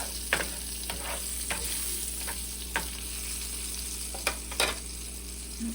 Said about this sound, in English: I'm only using one can, so just get tossed in the oil again